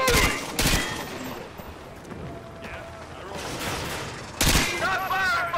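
Rapid gunfire bursts in Call of Duty Modern Warfare 2, loud sharp volleys at the start and near the end with a busier battle din between, while voices shout over the combat.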